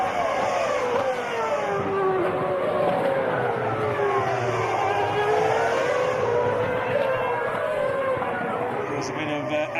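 Formula 1 cars race at Interlagos during the 2006 Brazilian Grand Prix as a McLaren passes a backmarker. Loud, continuous high-pitched engine whine rises and falls in pitch sweeps, with race commentary running over it.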